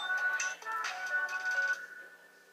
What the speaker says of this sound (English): that was that phone